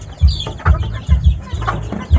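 A mother hen clucks in short, low, rhythmic bursts, about five or six pulses spaced roughly evenly, fairly close and clear with no talk.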